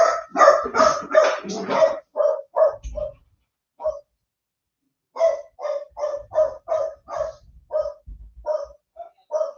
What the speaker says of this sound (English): We always know when the postman's here because the dogs let me know.